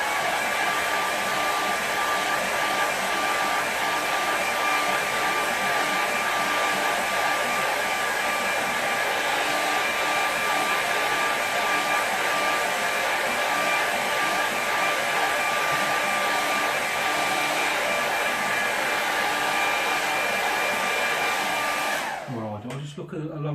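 A hair dryer blows in a steady, loud whirring roar for over twenty seconds to dry a watercolour painting between layers, shutting off just before the end with no talking.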